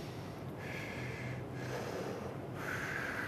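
Slow breathing inside a half or full-face respirator mask during a fit test, steady airy inhales and exhales in a continuous hiss with short pauses, close and moderately loud, no talking.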